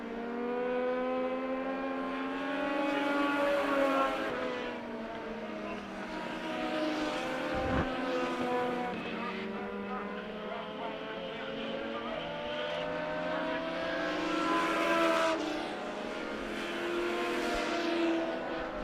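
Race cars at Monett Motor Speedway, a dirt track, roar past in waves of rising and falling engine noise, with a sharp knock midway and a continuous distant drone between passes.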